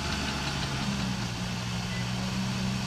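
A Cat dozer engine runs at a steady, heavy drone as the machine pushes a pile of material down on a construction site, a constant close mechanical rumble with no pauses.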